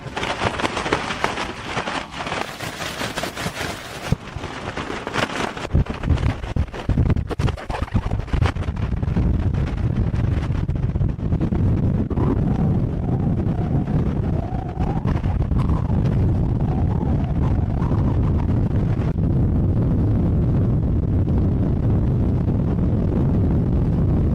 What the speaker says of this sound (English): there's terrible wind, up to 100 kph I managed to record. That's why the tent bends so much